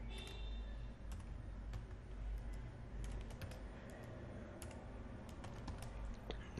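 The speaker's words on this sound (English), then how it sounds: "I'm just typing this as AD" Keys clatter faintly on a computer keyboard during a Windows Server setup, quick irregular taps over a low room hum.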